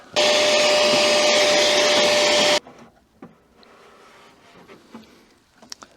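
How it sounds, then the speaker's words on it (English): A vacuum cleaner roars loudly and steadily for a few seconds inside a BMW M2 after a break-in, cleaning up broken glass, then shuts off, leaving faint rustling and small knocks. "Quickly grab the vacuum cleaner."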